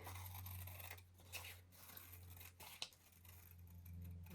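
Scissors snip through a glossy magazine page to cut out a model's eye, a few quiet crisp cuts with faint paper rustling over a steady low hum.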